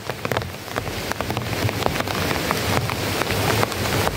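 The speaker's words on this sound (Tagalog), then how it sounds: "Kahit malakas pa ang ulan" Heavy rain pours outdoors in a dense, loud, constant patter with sharp individual drops striking close surfaces, steady for the whole stretch.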